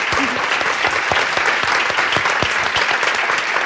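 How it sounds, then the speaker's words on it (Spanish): Dense, loud applause from an audience at a short-film premiere, steady crackling claps filling the whole stretch with no talk over it. "un aplauso para Valeria"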